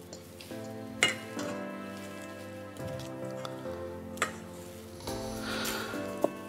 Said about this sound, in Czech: Na smažení si vezmeme řepkový olej